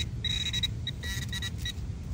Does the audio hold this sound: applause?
no